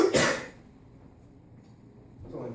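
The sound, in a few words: cough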